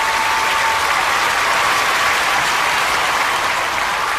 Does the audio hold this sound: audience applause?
yes